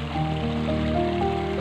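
Water spurts steadily from a puncture in a badly joined pipe fed by a spring, a close, continuous hiss and splash with a faint tonal hum running underneath, no talk.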